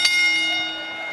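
A ringside bell struck at a live AEW and NJPW wrestling event in a London arena, one sharp clang with a ringing tone that decays over about a second.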